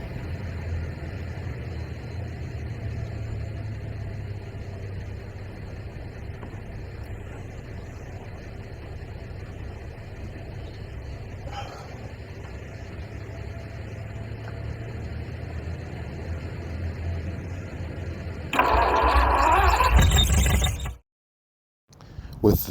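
A 1949 Lincoln 337 flathead engine runs steadily at a low, rumbling idle for most of the stretch, then revs up loudly near the end before cutting off abruptly into silence.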